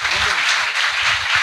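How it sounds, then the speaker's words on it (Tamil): A church congregation claps together in a dense, steady burst that fills the room, with a voice carrying faintly under the applause. "முதல்ல ஒரு நல்ல ஒரு கைத்தட்டல் தட்டுங்க அவருக்கு."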